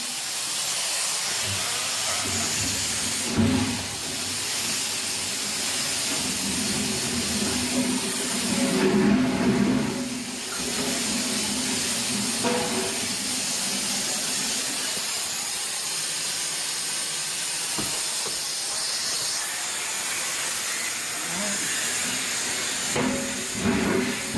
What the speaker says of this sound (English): let this tank vent for about 5-10 minutes